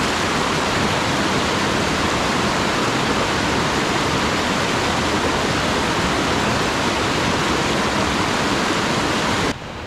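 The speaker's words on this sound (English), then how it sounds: "We crossed our second stream" Mountain stream rushing over rocks on a trail toward Adam's Peak, a loud, steady broadband wash of water close by that holds constant for nearly ten seconds before dropping off abruptly at the very end.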